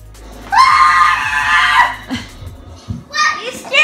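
A woman playing a VR game lets out a sustained, piercing scream that rises sharply and holds for over a second, followed by a brief exclamation and another short, high shriek.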